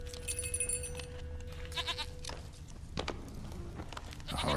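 Goat bleats in The Witcher 3 game world, a few short cries over ambient outdoor noise and footsteps, moderately close.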